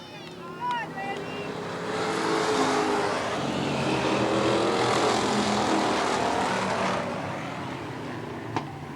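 Race cars roaring around the dirt oval at Eugene Speedway during a 1990 race, engines swelling to a loud sustained drone as the pack passes and then fading, with a track announcer's voice over the public address.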